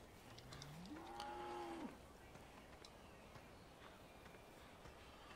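A single drawn-out cow moo rising in pitch from livestock on a Farming Simulator 17 farm, fairly clear against quiet background ambience, followed by faint scattered clicks and shuffling.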